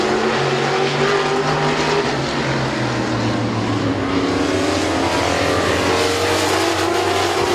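Race cars roar around the oval at Midvale Speedway, a loud continuous engine howl with shifting pitch as the pack passes, dense and unbroken throughout.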